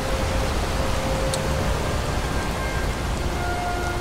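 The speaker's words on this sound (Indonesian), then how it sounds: "hujan nih kita, kehujanan." Steady rain falls in the video game Skyrim, a dense, even hiss of rainfall that holds at the same level throughout with no voices over it.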